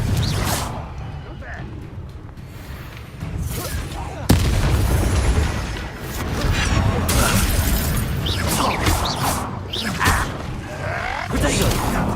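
A Confringo blasting spell in Hogwarts Legacy bursts with a sharp booming impact and shattering crackle, followed by further rumbling blasts and clatter, with a character's voice speaking over parts of the fight.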